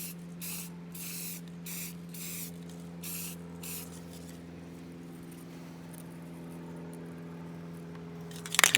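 A nearly empty spray-paint rattle can coats an AR15 rifle in several short, close hissing bursts over a low steady hum, ending with a brief clatter.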